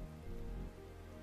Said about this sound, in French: Il pleut évidemment.